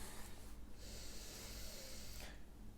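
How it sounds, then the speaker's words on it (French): Slow, deep breaths during a yoga downward dog pose, soft airy inhales and exhales heard close up with a quiet room hiss behind. "Expirez, Adho Mukha pour 5 grandes respirations."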